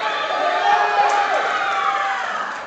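Crowd cheering and whooping for a Team Canada lifter during a deadlift at the Pan American Powerlifting Championships, a loud, brief swell of shouts and cheers in a hall.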